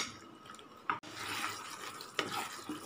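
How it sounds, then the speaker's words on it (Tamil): Boiled pasta being stirred into a cheesy white sauce, soft wet squelching and sloshing with a couple of sharper clinks of the spoon against the pan, close and fairly quiet, no voices. "இப்போ ஆல்ரெடி பாயில் பண்ணி வச்சுருந்த பாஸ்தா ஆட் பண்ணிக்கலாம். நல்லா மிக்ஸ் பண்ணிக்கலாம்."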